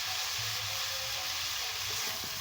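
Spinach stirred with chili powder in a hot oiled pan, a steady close sizzle and light frying crackle with faint scraping, no voices.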